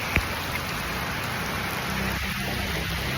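Rain falls on and around a camera outdoors, a dense steady hiss of drops with one sharp tap near the start, continuous and close.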